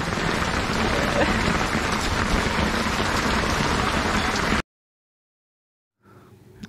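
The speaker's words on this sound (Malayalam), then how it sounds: "നല്ല മഴ അടാറ് മഴ ഫുള്ള് മഴയായിട്ട്" Heavy rain pours in a dense, steady roar for several seconds, heard from inside an auto-rickshaw, then cuts off abruptly to near silence before faint sound returns.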